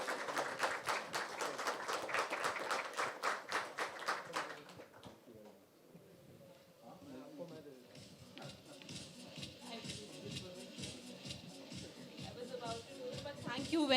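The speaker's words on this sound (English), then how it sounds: "Can I please expect a big round of applause for all our panelists?" An audience applauds panelists at a conference on the digital CFO with rhythmic, evenly spaced clapping. The clapping dies away into murmuring and shuffling, then loose clapping builds again toward the end.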